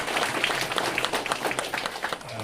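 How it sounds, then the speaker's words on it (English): An audience at an indoor business event applauding, a dense patter of many hands clapping steadily close by with no pause. "I think he deserves a big round of applause for making this."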